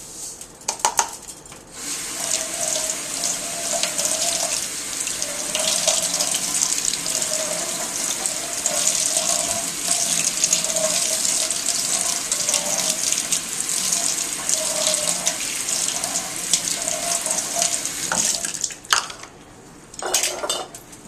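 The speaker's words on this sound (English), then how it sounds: "So we want to rinse these under the sink. I use a little strainer here" Running tap water splashes steadily through a small strainer of quinoa in a kitchen sink, a continuous close wash of water with faint clinks of metal against the basin, fading out near the end.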